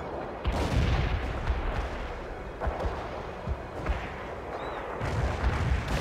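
Heavy artillery barrage in World in Conflict, a dense, continuous roar of loud booms and blasts layered over each other for the whole stretch, with several stronger thumps standing out and no voices.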